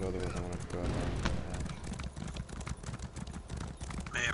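Horses galloping in the Elder Scrolls Online video game, a fast, steady clip-clop of hooves running throughout, close and fairly loud.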